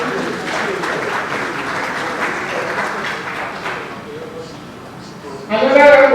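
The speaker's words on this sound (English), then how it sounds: "Another round of applause for Eko Akete." Audience clapping at a scholarship event for Lagos indigenes in Houston, Texas, a moderate wash of applause under crowd chatter that thins out before a louder voice cuts in at the end.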